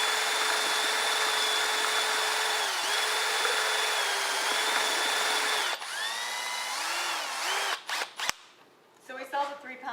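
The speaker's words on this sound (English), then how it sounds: "we're going to whip this with a drill." A power drill whirs steadily at high speed mixing taxidermy foam, its pitch dipping briefly under load, then sputtering and stopping near the end as a voice speaks.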